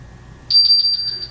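A Roku Voice Remote Pro's lost-remote finder sounds a high-pitched electronic beep pulsing in a quick, regular series after a moment of near silence, loud and close.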